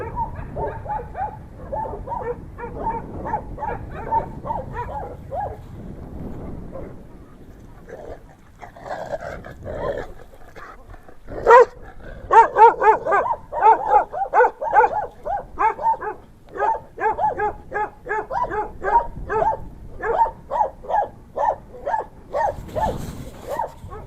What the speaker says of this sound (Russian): Тибетские собаки злые, что вообще.